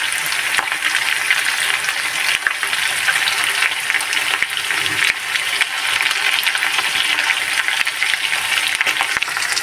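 Chicken masala with chopped coriander leaves stir-fries in a hot pan, a loud, continuous, dense sizzle close up with faint scraping of a spatula under it and no voices.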